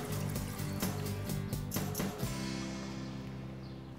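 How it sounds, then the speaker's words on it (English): Courtyard sculpture-garden fountain water falls onto metal with a tinny, splashing patter, softly and continuously, before easing off to a quieter trickle; no voices. "the water is coming down to metal, which gives it a different tinny kind of a sound as opposed to splashing onto stone or water"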